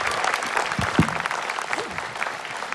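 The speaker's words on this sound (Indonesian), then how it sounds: "Tapi luar biasa tepuk tangan untuk Rinku Viceroy." Studio audience applause for a magician on a television talent show, a dense clapping crowd heard steadily for a few seconds with some voices mixed in.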